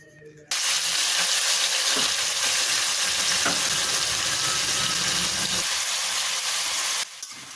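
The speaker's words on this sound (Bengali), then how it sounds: "দেখো এক এক করে আমি সমস্ত মাছটা তেলের মধ্যে ছেড়ে দিলাম" Small kachki fish go one by one into hot oil, setting off a loud, steady frying sizzle that starts abruptly and holds dense and close for several seconds before cutting off.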